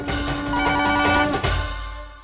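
An old-style telephone bell rings loudly and close by in a domestic setting, with a continuous metallic trill that runs for about two seconds before it cuts off and fades.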